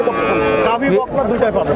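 Cattle, heifers and cows, moo loudly nearby at a livestock market, long drawn-out calls overlapping, with faint crowd murmur in the background.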